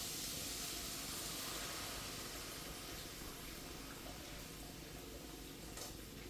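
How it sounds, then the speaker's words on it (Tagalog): Continuous broadband hissing and sizzling of water poured into a hot pan while cooking pancit gisado, steady and fairly loud for several seconds with no talking. "Lagyan natin tubig, mga kasama."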